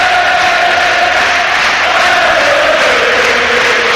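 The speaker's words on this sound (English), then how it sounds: "Listen to that crowd." Charlton Athletic fans in a packed stadium singing during a football match against Doncaster, a loud, sustained roar of voices filling the whole stretch with no break.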